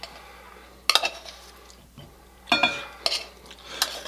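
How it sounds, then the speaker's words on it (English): Cooked rice is turned out of a cooking pot into a large bowl, with a few sharp clanks and scrapes of utensil against pot at irregular intervals over a quiet kitchen background. "once our rice is done cooking here, we're going to turn it out into a generously sized bowl."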